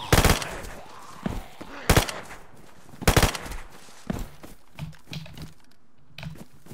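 Gunfire rings out in the DayZ video game: several loud, sharp shots in irregular bursts, followed by a few quieter, scattered cracks, with no talking.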